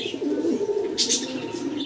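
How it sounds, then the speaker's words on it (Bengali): Lahori pigeons cooing close by, a low rolling coo repeated several times, with a brief flutter partway through. "আরও এক জোড়া লাহরি কবুতর"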